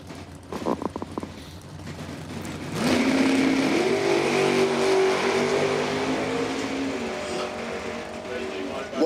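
A drag racing Nova and Camaro launch down the strip at the Octoberbucks 150 event, a few idle engine pops giving way to a loud sustained roar of revving engines that holds steady, heard from trackside.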